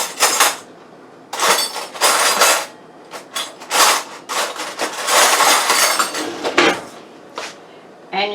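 A butter knife scrapes and taps around the rim of a pie pan, trimming a scratch-made crust, in uneven bursts of scraping close by with pauses between.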